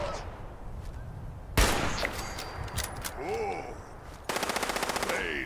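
Gunfire aimed at the player in Fallout 76: a single loud shot followed by scattered game effects, then a rapid automatic burst near the end.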